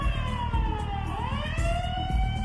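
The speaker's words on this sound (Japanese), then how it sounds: "なんだこの警報は。 現場に不審な侵入者が出た時に鳴るようになっとるんだ" An intruder alarm siren in the Yakuza Kiwami 2 video game wails loudly and steadily, its pitch dipping and rising again, over a low, rhythmic thumping backdrop.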